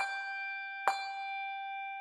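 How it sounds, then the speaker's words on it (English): A handbell from a Kontakt Player virtual instrument rings a sustained, bright tone. Partway through, a release retrigger strikes the same note again with a sharp hit. There is no talk. "As soon as you lift up the key, you get another shake or hit of the bell on that same note."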